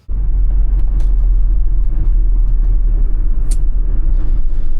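A vehicle cruises on a thawing highway toward Omaha, producing a loud, steady low engine and road rumble from inside the cab, continuous and unbroken by talk.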